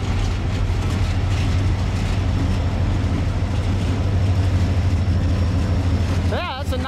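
Iowa Northern locomotives moving a train rumble with a steady, loud low engine drone and rolling noise throughout, with a brief whining tone near the end.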